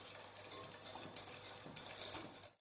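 Soft, steady whisking and scraping as flour is folded gently into whitened eggs and sugar for a praline pastry cream, a quiet continuous stirring with light utensil taps and no talk.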